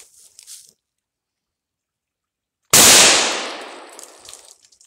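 A Norinco SKS rifle fires one loud, sharp shot at a rock against a wall outdoors, the blast decaying over about two seconds after a long quiet stretch, with faint voices before and after.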